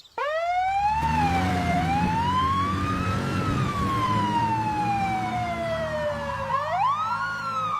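Ambulance siren wailing loudly and close, a continuous rising and falling tone that sweeps slowly up and down, then swoops sharply near the end.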